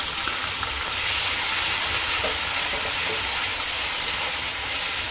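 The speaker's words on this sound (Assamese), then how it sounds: "পিঁয়াজখিনি মই অলপমান দি ভাজি ল'ম।" Ground onion paste with garlic-ginger paste frying in a pan for soybean kofta, a loud continuous sizzle with scraping stirring sounds mixed in, and no talking.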